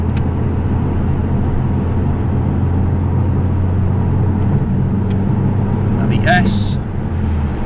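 A 2008 Alfa Romeo Brera S on the move gives a steady low engine and road drone heard from inside, with someone talking over it throughout.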